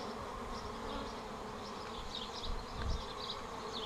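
A honeybee swarm buzzing around a hive box, a soft continuous hum of many bees with individual wingbeats drifting past, fairly faint and with no talking.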